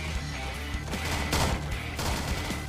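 Rapid bursts of gunfire from weapons in the Roblox game SCP Daybreak, dense and loud, with several overlapping volleys and crashing impacts filling the whole stretch.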